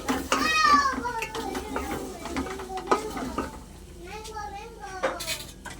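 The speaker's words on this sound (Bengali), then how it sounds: "ভালো করে আমি কষিয়ে নেব।" Spices sizzling and being stirred in a pan with Kashmiri chilli powder, cumin powder and salt while cooking vegetarian khichuri, a steady close fry with scraping stirs and faint voices in the background.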